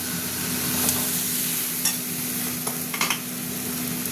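Masala spice paste frying in oil in a pan for a prawn curry with ridge gourd, pointed gourd and potato, giving a steady close sizzle broken by a few sharp stirring scrapes.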